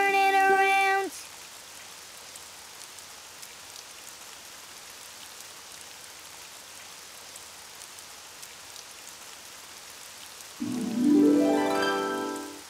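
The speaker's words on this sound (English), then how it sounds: "it's raining outside" Soft, steady rain in a Daniel Tiger children's cartoon falls for most of the stretch, bracketed by brief tonal musical sounds at the start and a rising tone near the end.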